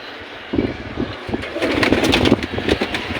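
Pigeons coo softly in low, rounded calls, close by, with faint rustling and a few sharper clicks in the background.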